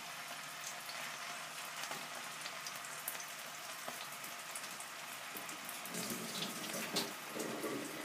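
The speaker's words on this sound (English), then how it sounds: "put it in the pan and let it sizzle" Steak frying in a hot pan, a steady hiss and crackle of sizzling meat with scattered pops, fairly close and continuous with no talking.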